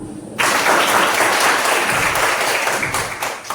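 A classroom of students bursts into applause at the end of a mathematics lesson, loud, close clapping that starts abruptly and holds steady before easing slightly, with a few voices mixed in.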